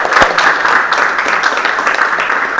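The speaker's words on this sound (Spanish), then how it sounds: "Vamos a darle un aplauso al Rey entonces" A church congregation applauding during a Wednesday leadership service, a loud, steady crowd clapping that fills the room with a sharp single clap near the start, continuing evenly throughout.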